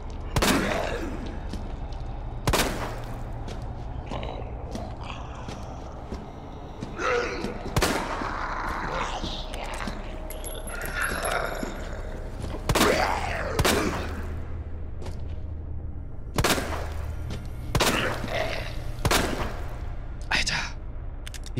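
Scattered gunshots at an enemy in Resident Evil 2 Remake, several sharp single reports spaced seconds apart against a low ambient hum, with someone talking between and over them.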